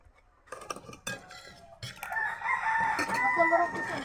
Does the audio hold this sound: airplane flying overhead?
no